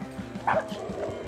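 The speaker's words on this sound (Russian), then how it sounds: "Софи, Юми, не лаем" Dogs indoors give a few short, quiet yips and barks in quick succession, close by but soft.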